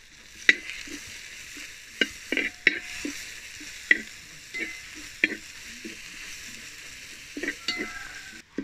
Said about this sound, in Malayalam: നമ്മുടെ സവാള നല്ല ഗോൾഡൻ കളറായിട്ടുണ്ട്.